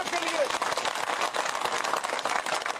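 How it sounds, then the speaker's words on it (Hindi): A crowd at a public political gathering in Budhal claps in a brief, dense burst of applause, with a speaker's voice carrying over it. "जोरदार ताली मोदी साहब के लिए"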